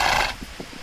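A horse lip-flutter emote from the HorseWorld video game, heard as a brief breathy burst followed by a few soft, low fluttering pulses, all within a second.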